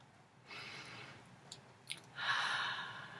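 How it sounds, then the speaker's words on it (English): Slow deep breath, with a long airy inhale followed by a fuller, louder exhale, close and quiet, with no talking. "So if you could just take a deep breath with me"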